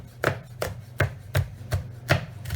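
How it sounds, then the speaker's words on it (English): A knife coarsely chops a seeded vegetable for chicken gumbo on a cutting board, with six evenly spaced, crisp thuds close by at a relaxed steady pace and no voices. "And just like an onion, we want to coarsely chop it up."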